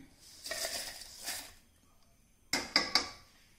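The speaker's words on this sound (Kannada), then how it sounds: "ಇದನ್ನು ಮಿಕ್ಸಿ ಜಾರ್ಗೆ ಹಾಕ್ಕೊಳ್ತಾ ಇದ್ದೇನೆ." Roasted dried chillies and curry leaves poured into a mixer jar, giving soft rustling slides followed by three sharp clinks and taps of the jar near the end.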